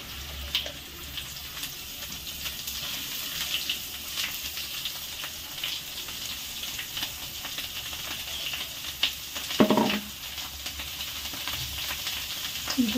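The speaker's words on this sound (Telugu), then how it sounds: "కొంచెం వాటర్ వేసుకుంటున్నాం." A little water goes into a cooking pan of biryani spices and onion paste, giving a brief splash and a rush of sizzle amid the constant hiss and crackle of frying on a home stove.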